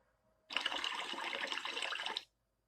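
Running water pours steadily for about two seconds as one of the options in a CAPTCHA audio challenge, starting and stopping abruptly with near silence on either side.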